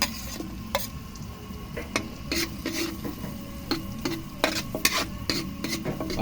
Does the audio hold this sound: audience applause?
no